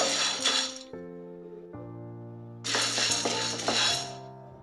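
Hyacinth beans (avarekalu) dry roasting in a pan, with bursts of rattling, scraping stir strokes against the metal over a steady hum, separated by a quieter pause.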